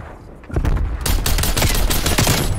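Flame Bearer DMR firing in Call of Duty Cold War, a fast run of loud, close gunshots that begins after a quieter half second and continues without a break.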